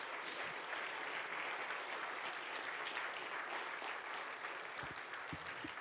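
A church congregation applauding during a sermon, sustained dense clapping from many hands, steady and moderately distant, with a few faint voices underneath.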